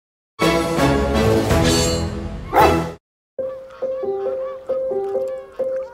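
A gang of schnauzers barks in a dense, loud, overlapping burst for a few seconds, then gives way to a short tonal melodic passage.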